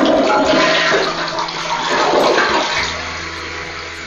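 A newly installed toilet flushes loudly and close by, a steady rushing gush of water that eases toward a quieter refill trickle near the end.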